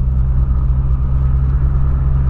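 Steady, loud low engine rumble from a VW Polo accelerating, a constant drone with strong bass that holds evenly throughout, no voices over it.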